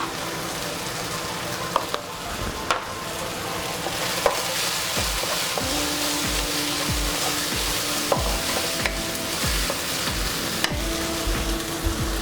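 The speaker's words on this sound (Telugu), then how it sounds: "మసాలా ఫ్రై అయిపోయిందండి." Masala frying in a pan for a sand fish curry makes a steady sizzle, with occasional stirring scrapes and clinks close by and no one talking.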